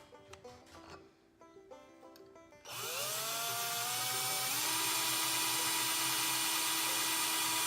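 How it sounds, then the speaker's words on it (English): A drill bit bores straight down through the back of a 46RE/47RE transmission valve body. A few light clicks come first, then a loud, steady, high whining drill cuts in and holds close up to the end. "we're gonna take a drill bit and drill straight down through out the back side of this."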